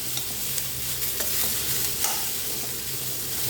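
Cauliflower sizzles steadily in a hot pan while being stirred, an even close frying hiss with occasional spatula scrapes and soft knocks, no voices.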